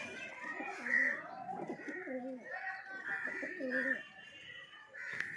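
Pigeons coo in a loft, a series of soft, throaty rolling calls repeating over several seconds, near and clear against a quiet background.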